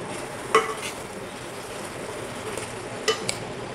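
Mushroom curry with shahi garam masala being stirred in a pan over low flame, a soft steady sizzle with two brief louder scrapes of the spoon against the pan, no one talking.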